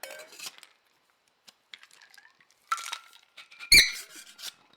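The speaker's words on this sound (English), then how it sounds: "Sorry about the squeaks." Sharp, high squeaks come in scattered bursts while cocktails are mixed at a home bar, with light clinks of glassware between them and one louder squeak near the end, close and otherwise quiet.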